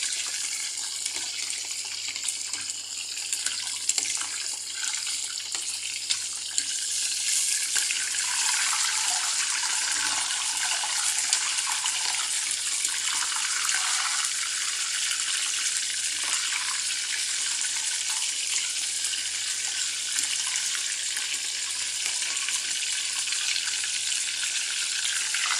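Tap water runs steadily for about 26 seconds as cheese is washed under it, a loud, continuous rushing hiss with no talking.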